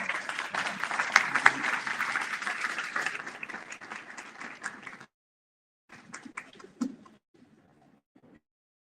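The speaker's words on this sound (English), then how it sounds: "Please join me in giving a round of applause." A seated audience at a community hearing in Southaven, Mississippi claps steadily for about five seconds, then the applause breaks off into a few scattered, fading claps.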